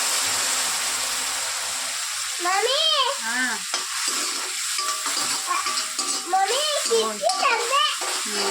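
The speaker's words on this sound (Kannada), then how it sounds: "ಈಗ ನಾನು ತೆಂಗಿನಕಾಯಿಯನ್ನ ಸೇರಿಸ್ಕೊತಾ ಇದ್ದೀನಿ." Grated coconut frying with onions in a pan for coconut rice, a constant sizzle with stirring scrapes, while a voice chatters over it in the middle and near the end.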